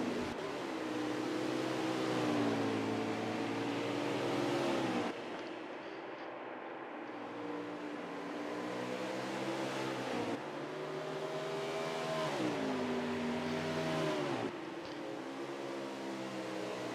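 NASCAR Xfinity race cars roaring around Canadian Tire Motorsport Park in a racing video game, a steady loud engine drone with rising and falling pitch sweeps as gears shift, continuous throughout with brief dips.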